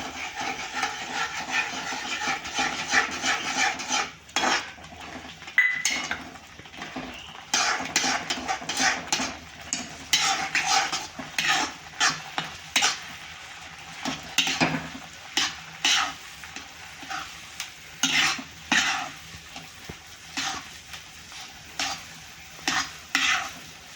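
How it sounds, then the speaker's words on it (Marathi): Semolina being stirred into boiling water in a pot for a quick breakfast dish, heard as rapid rhythmic spoon scrapes and knocks against the pan over a soft bubbling hiss, close and fairly loud, with no speech. "थोडा थोडा रवा याच्यात टाकून घ्यायचा आहे"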